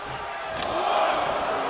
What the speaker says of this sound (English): Yokozuna is revving this crowd up